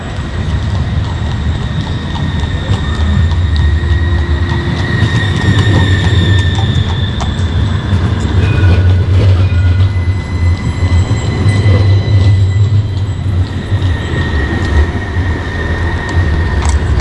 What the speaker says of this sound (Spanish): pasa el tranvía por toda la mitad de la vía